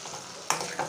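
Capsicum stir-fried for chilli chicken in a hot pan, a soft continuous sizzle with two quick scraping stirs of a spatula, close and quiet, no voices.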